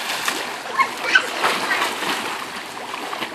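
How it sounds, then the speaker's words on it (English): Someone belly flops into a swimming pool, and a broad splash of churning water runs throughout with voices talking over it. "What a belly flop."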